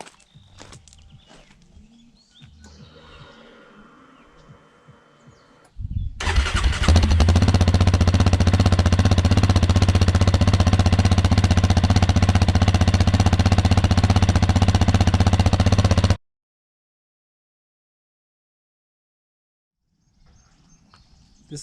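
A 2022 Yamaha engine fitted with an Empire Industries dual exhaust, silent cores removed, fires up after a few quiet handling noises. It idles loud and steady with a deep throb for about ten seconds, then cuts off abruptly.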